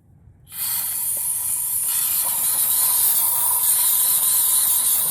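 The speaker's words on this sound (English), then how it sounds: "we're just going to kind of shoot some of this carbon choke cleaner in there actually" Carb and choke cleaner sprayed into the EGR of a 5th gen Ram 2500 diesel: after a brief quiet start, a loud, steady aerosol hiss begins abruptly and continues without a break, close to the listener, with no talking.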